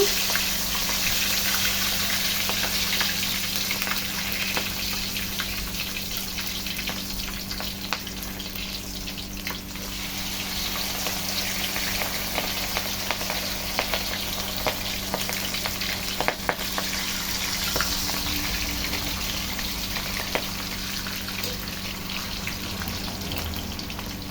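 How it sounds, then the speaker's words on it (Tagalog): Spare ribs fry in very hot oil, a loud, continuous hiss and crackle of sizzling that holds steady throughout with occasional sharper pops and no talking. "Tayo ay mag-fry na. So, ayan guys, dapat ang ating oil ay mainit na mainit ha."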